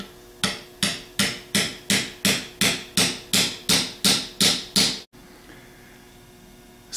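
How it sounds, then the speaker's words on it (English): Twelve sharp metallic taps of a 15 mm socket on the slip ring of a 6G alternator ring out at an even pace, each with a brief ringing decay, followed by quiet background. "Take a 15 millimeter socket and tap lightly on the top of the slip ring."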